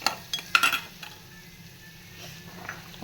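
Ten to twelve crushed garlic cloves sautéing in oil with a soft, low sizzle, marked near the start by a few sharp clinks of a spoon against the pan.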